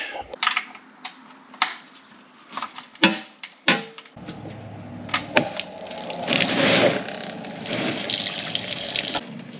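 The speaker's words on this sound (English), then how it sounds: "Oh, it's splashing everywhere." Fluid drains from a BMW E83 X3 with an M54 engine, splashing and trickling unevenly with sharp clicks and knocks, then settling into a steadier rushing pour.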